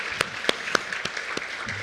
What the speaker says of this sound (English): let's have another big round of applause for Alan, Sarah, Molly, and Johnny